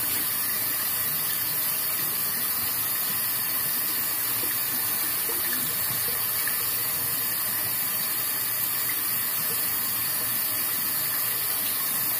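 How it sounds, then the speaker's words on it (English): Tap water runs steadily as a shaving brush is rinsed under it, giving a loud, constant rushing hiss that carries on without a break and with no voices. "Let's rinse off the brush while this is drying."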